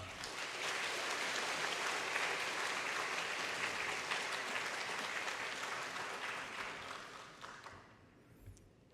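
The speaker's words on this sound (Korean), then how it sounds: "나올 때 우리 격려의 박수로 환영하겠습니다" Church congregation applauding to welcome the preacher at a Wednesday evening service, steady full clapping sustained for about seven seconds before fading out.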